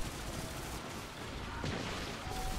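Sniper gunfire in the video game Destiny 2, a few sharp shots cutting through a dense, noisy battle mix of continuous game effects, with no talk over it.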